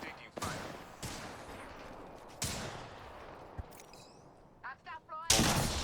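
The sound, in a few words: gunfire in the Apex Legends video game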